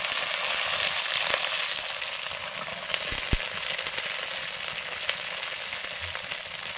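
Beans and other vegetables hitting hot oil in a pan for vegetable paneer polao, a loud, steady close sizzle with a few light clinks of stirring.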